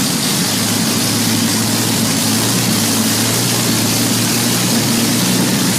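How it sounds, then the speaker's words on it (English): Rolls-Royce Merlin, a British liquid-cooled 27-litre V12 piston aero engine brought back to life after restoration, running with a loud, continuous deep drone and steady low harmonic hum, no pauses or voices. "Rolls-Royce Merlin"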